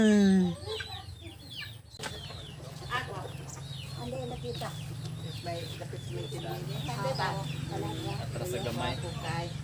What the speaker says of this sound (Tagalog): Naay mga manok, native chicken.